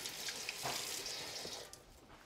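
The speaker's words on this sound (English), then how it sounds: "I'm gonna rinse my spoon." A spoon being rinsed under a running kitchen tap while cooking sloppy joes, a steady faint hiss of flowing water with small splashy surges, heard alone.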